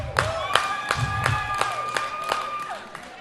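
Comedy club crowd at a stand-up show cheering and clapping in a series of sharp applause bursts, with whoops and shouts over a steady roar of audience noise.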